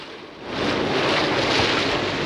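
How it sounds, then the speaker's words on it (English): Strong wind roars over open sea aboard a sailing boat, a loud broadband rush that swells after the first half second and stays steady, with water wash beneath it. "This is probably the most wind we've had all trip."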